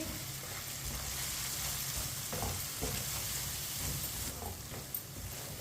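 Ground spices (red chilli powder, crushed red chilli, turmeric and coriander powder) sizzling and frying steadily in a pan for a tori (ridge gourd) dish, with occasional stirring scrapes; close, continuous and alone, no voices.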